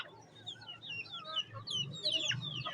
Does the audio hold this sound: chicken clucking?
yes